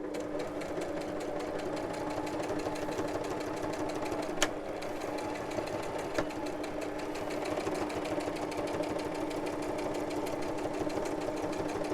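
Sewing machine stitching a pocket, running steadily for the whole stretch with a fast, even mechanical whir and a couple of brief clicks, loud and close with no talking.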